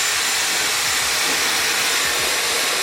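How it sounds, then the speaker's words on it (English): Steady, loud, continuous rushing airflow from a Dyson Airwrap hair dryer rough drying extra-long hair at the roots, an unbroken hiss with no pauses throughout. "So I'm going to start off by rough drying my hair, mainly making sure that the roots are nice and dry"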